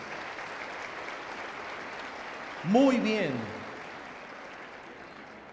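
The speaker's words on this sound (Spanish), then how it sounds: "Se merecen un aplauso." Audience applause at a Spanish-language prayer breakfast, a steady wash of clapping throughout, with someone briefly speaking over it midway.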